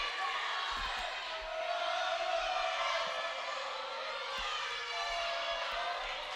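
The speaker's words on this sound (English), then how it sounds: "And the crowd's getting back in it." At a women's college volleyball match in a gym, a crowd cheers and shouts in a sustained wash of noise. A commentator talks throughout, and ball bounces and slaps ring out sharply now and then.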